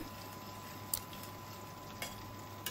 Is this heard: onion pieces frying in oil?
yes